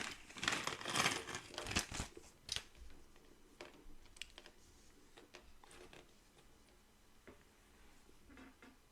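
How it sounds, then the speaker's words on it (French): Plastic bag being pulled open, a burst of sharp crinkling and rustling up close at the start, then sparser quieter crackles and small ticks as handling continues, no talking. "Si j'arrive à ouvrir le sac"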